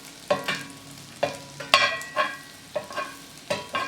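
A collard sandwich fries in a hot pan, with repeated bursts of sharp sizzling and splattering spaced irregularly over a low background crackle.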